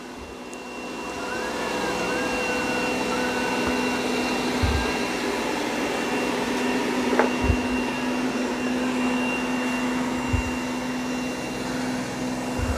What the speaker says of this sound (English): I can hear that side brush ramping up and down.